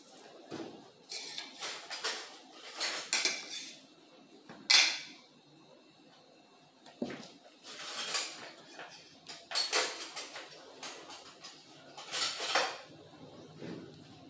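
A metal spoon scrapes burnt green corn canjica from the bottom of a pot, a series of loud irregular scraping and clanking strokes separated by short quiet pauses.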